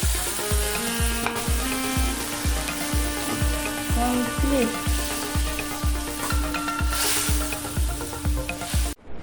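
Fish frying and simmering in a Bengali fish curry (macher jhol), a steady broadband sizzle running close and continuous with a regular low pulsing rhythm underneath, no voices.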